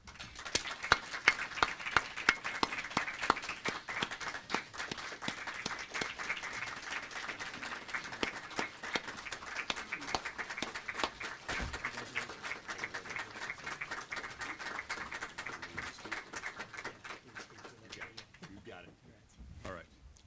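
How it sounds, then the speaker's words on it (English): Prolonged audience applause at a police distinguished service awards ceremony in Dallas, dense steady clapping for about twenty seconds, moderately distant, thinning out near the end. "Please give us a round of applause."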